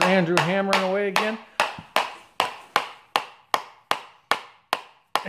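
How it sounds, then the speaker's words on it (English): A child hammers nails in a workshop, about a dozen sharp, evenly spaced blows ringing close and loud after a brief stretch of voice at the start. "There's Andrew hammering away again."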